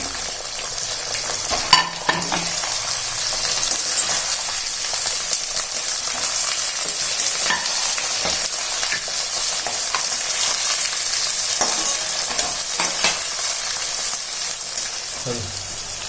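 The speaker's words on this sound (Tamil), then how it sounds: "வெங்காயம் பூண்டுலாம் வதக்கியாச்சுங்க." Onion, garlic and curry leaves sauté in a pan for Tamil vatha kulambu, giving a steady, close sizzle and crackle across the whole stretch with a few scraping stirs, no talk.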